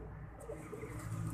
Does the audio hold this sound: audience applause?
no